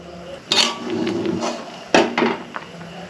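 Milk pitha simmering in a pot of sweetened saffron milk is stirred with a utensil, giving two sharp scraping knocks against the pot followed by softer clinks and rustles, close and without talk.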